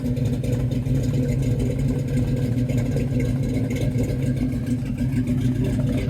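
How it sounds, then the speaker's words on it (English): An LS3 V8 in a 1957 Chevrolet 3100 pickup runs steadily, a low rumbling burble from the exhaust with square tips, even and continuous at moderate loudness. "this LS3 really sounds good"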